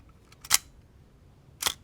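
Zenit EM film SLR shutter firing in bulb mode: two sharp, close mechanical clacks about a second apart as the shutter opens and then closes, with quiet in between.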